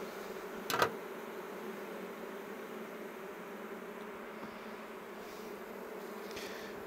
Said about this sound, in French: il y en a beaucoup qui bougent les ailes là